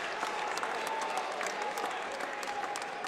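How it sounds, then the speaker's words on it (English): A college wrestling crowd on its feet at an NC State Wolfpack match, with dense, sustained applause and cheering filling the hall, and a commentator's voice faintly underneath. "They're on their feet cheering about it."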